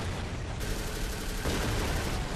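Sustained turret gunfire in the video game Avatar: The Game, a dense, continuous barrage of rapid shots with no pauses, loud and steady throughout.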